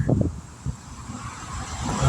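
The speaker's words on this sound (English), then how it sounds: "Lord, it is windy out here" Gusty sea breeze buffets the microphone at a coastline park, a low rumbling wind roar that swells at the start and end, close and fairly loud with no talking.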